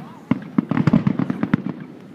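Rapid bursts of fireworks exploding, a quick uneven series of sharp pops and crackles at moderate distance, about a dozen reports packed into two seconds.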